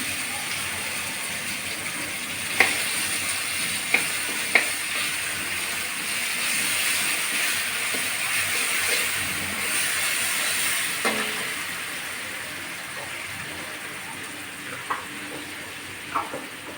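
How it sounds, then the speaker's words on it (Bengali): Garlic sizzles in hot oil with dried red chilli in a pan, a steady soft frying hiss broken by a few sharp pops and clicks of stirring, with no voices. "আমি এখন একটু রসুন দিয়ে দিচ্ছি তেলের ভিতরে"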